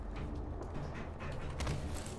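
A creaking, mechanical door closes in a video game, with a grinding, dragging slide and a few heavier knocks toward the end, moderately loud and alone.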